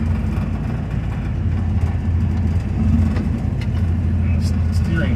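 A 1949 Studebaker gasser's engine idles steadily with a deep, rough, slightly uneven rumble, loud and close throughout.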